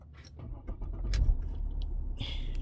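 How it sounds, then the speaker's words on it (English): A Mercedes car engine starting, with a rumbling crank and catch that settles into a steady idle, heard up close with small clicks and a jingle of keys and no talking. "So when I start the car"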